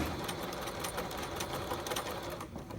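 A sewing machine set to a long stitch length of 5, sewing a basting stitch to ease fabric: a brief, steady, close whirring with a fast regular needle clatter, a few seconds long and without talk.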